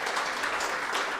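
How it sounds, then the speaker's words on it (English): Brief burst of audience applause for a team at a World Arthritis Day event, moderately faint and even, lasting about a second. "So big round of applause for the entire Mankind team."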